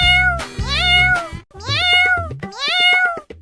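A voice imitates a cat, giving three drawn-out, whiny meows one after another, loud and close.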